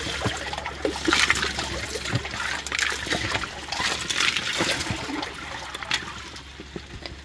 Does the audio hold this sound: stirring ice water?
yes